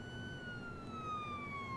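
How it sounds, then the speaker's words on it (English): Police sirens in the video game Jenny LeClue Detectivu wail steadily with a slowly falling tone, fairly faint and continuous over a low ambient hum. "As the sirens grew louder"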